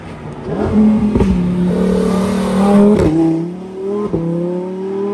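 A Lamborghini Huracan STO race car, 640 hp, approaching with a loud, snarling engine that revs up and down in several surges, with sharp gear-change breaks as it draws close.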